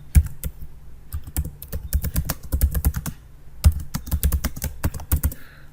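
Computer keyboard typing in Microsoft Word, with Shift and Enter pressed: two close, fast bursts of crisp keystrokes separated by a short pause, with no talk.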